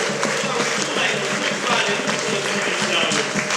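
Church congregation clapping with many hands in a dense, continuous patter, voices and singing mixed in underneath at an even, lively level.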